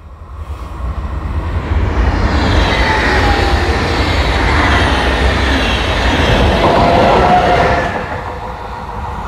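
Class 145 electric locomotives roll past on the rails, a loud, steady rumble of wheels with faint squeals rising and holding for several seconds before easing off near the end.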